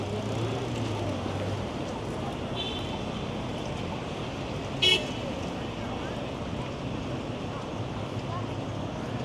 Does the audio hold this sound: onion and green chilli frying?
no